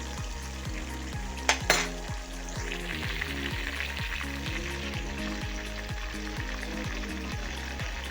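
Fish fries in oil in a pan in a home kitchen, giving a close, steady crackling sizzle. A brief metallic clink from a utensil sounds early on.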